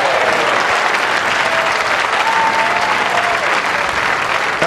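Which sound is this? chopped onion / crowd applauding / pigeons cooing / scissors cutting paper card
crowd applauding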